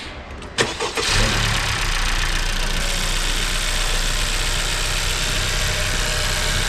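Honda Civic FK7 fitted with an MST cold air intake cranks over briefly and catches, then settles into a steady, loud idle with a broad intake rush, heard up close without talking.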